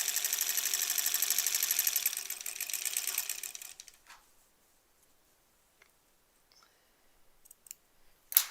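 A sewing machine stitches fabric in a fast, steady rattling run for about four seconds, then stops, leaving near silence broken by a few faint clicks and a sharp tap at the end.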